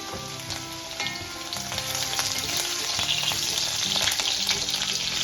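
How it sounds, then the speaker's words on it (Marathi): Slit green chillies and crushed garlic cloves fry in hot oil, giving a dense, continuous sizzle and spatter that grows slightly louder as it goes on, close up and uninterrupted by speech. "थोडंसं आपल्याला भाजू द्यायचं तेलामध्ये"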